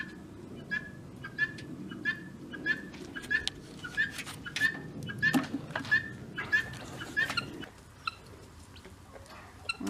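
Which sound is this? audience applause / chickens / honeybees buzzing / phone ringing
chickens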